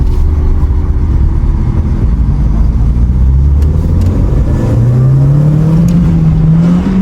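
The engine of a manual car in neutral, driven by a first-time stick-shift driver, revs loudly and close up. Its pitch climbs steadily in a sustained, droning rise.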